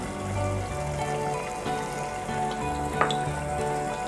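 Spices such as red chili powder, turmeric and coriander-cumin powder sautéing in a pan for paneer handi give a steady close sizzle with light crackle, and a brief sharper pop near the end.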